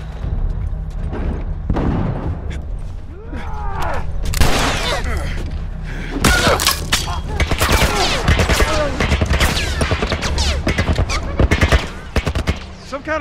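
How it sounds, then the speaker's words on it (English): Automatic gunfire from a military turret in The Last of Us rattles in sustained bursts, loud and close, with sharp impacts and booms between volleys and a low rumble underneath. "Some kind of military turret."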